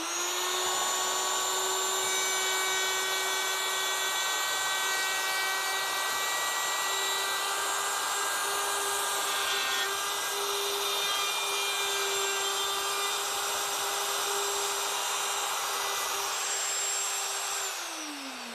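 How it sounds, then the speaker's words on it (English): Router on a dovetail jig cutting tails, pins and sockets in a wood board in one pass, with dust collection running: a loud, continuous high whine with steady cutting hiss, held for the whole stretch and winding down at the end. "what I'll be able to do is in one fell swoop, cut both the tails and the pins and sockets"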